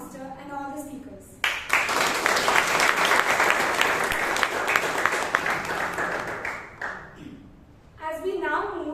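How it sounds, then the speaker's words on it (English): Audience at a Bangalore Toastmasters club meeting bursts into sustained applause for the table topics master and speakers, a dense wash of clapping lasting several seconds, with talking before and after it. "So a huge round of applause to the table topic master and all the speakers."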